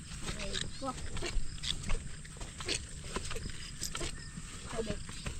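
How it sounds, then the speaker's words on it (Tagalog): An escaped pig on a farm grunts in short bursts, mostly buried under people talking and moving about nearby. "Nakatakas yung baboy."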